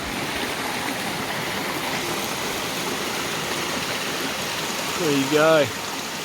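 Water from a river tributary waterfall pours steadily over rock in a constant broadband rush, with a voice briefly speaking near the end.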